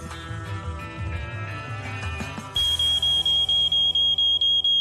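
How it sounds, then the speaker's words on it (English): A malfunctioning smoke detector alarm sounds a loud, high-pitched beep that repeats at a steady, rapid rhythm, cutting in sharply over a dense musical background partway through. "Code 16, malfunctioning smoke detector."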